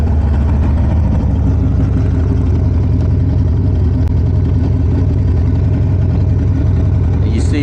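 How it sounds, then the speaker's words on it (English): Harley-Davidson Sportster 48 motorcycle engine running steadily at idle in neutral, a loud, continuous low rumble with an even pulsing throb and no break throughout. "so I'm gonna start up the bike now"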